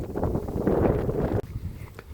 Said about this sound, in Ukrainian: А ось так, бачите, сильний вітер.